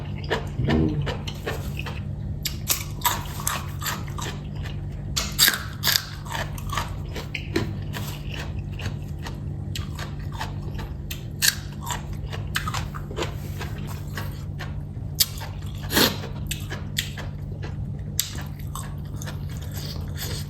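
Crunchy pork cracklings being bitten and chewed close up in repeated crisp bursts over a steady low background hum, served with a spicy Isan-style minced liver dish.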